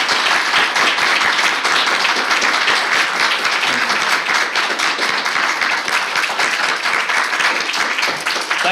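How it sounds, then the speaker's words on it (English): An audience at a lecture on racism and left politics claps loudly and steadily, a dense, continuous wash of applause with no break. "you should join me in applauding her for making this happen"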